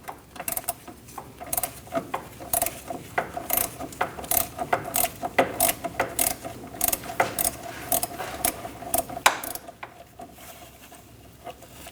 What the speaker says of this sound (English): Use a 13mm, and we're going to remove the nut.